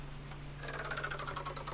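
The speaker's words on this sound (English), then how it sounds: "Sewing machine." A sewing machine in Mountain Crime: Requital starts up and rattles in a fast, even stitching rhythm for over a second, close and clear over a low steady hum, with no talking.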